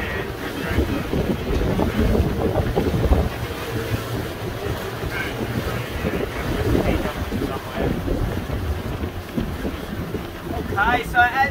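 A boat motors along at sea off southern Tasmania under heavy wind buffeting the microphone, with water rushing and a voice speaking over the steady roar.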